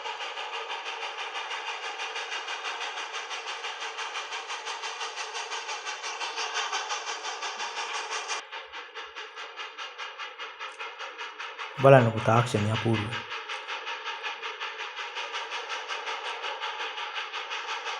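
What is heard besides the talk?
train moving over switching tracks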